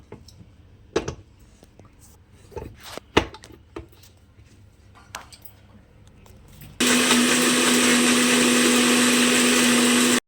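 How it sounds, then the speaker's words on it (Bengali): A mixer grinder starts after a few quiet kitchen knocks and clatters, then runs loud and steady with a constant whine as it blends a watery breakfast batter. "এটাকে মিক্সির মধ্যে হচ্ছে এটাকে ঘুরিয়ে নিতে হবে।"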